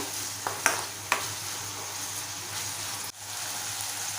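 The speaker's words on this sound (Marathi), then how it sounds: "आणि छान फिरवून घेऊया टोमॅटो छान नरम होईपर्यंत आपल्याला परतवत राहायचं आहे" Tomatoes for prawn rice sautéing in a pan, a steady close sizzle with a few sharp spatula scrapes and taps as they are stirred, and no talking.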